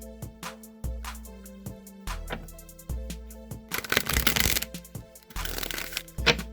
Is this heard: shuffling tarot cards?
yes